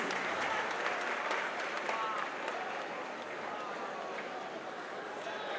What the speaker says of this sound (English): a round of applause for our brilliant 11-year-old artist for putting this together in 2 hours